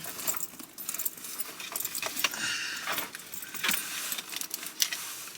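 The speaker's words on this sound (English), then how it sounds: "I gotta put the key in the god darn ignition" Car keys jangle and clink repeatedly near the microphone for several seconds, a busy metallic rattling, with faint vehicle background and no talk.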